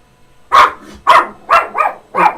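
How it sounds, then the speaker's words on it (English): A dog barks loudly and close by, five sharp barks in an uneven rhythm with short pauses between them, with no talking over it. "Oh, dog's already barking."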